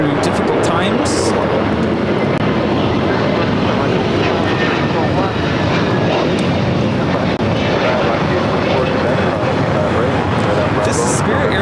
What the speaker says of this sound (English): This is Spirit Airlines AAA taking off to Columbus on the A321neo.